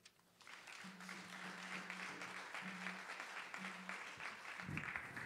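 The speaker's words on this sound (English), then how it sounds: "clap your hands for her" Audience applause at a Haitian Flag Day celebration at Brooklyn Borough Hall, a dense, steady clapping that swells in after a quiet start and holds loud to the end, with a low hum running underneath.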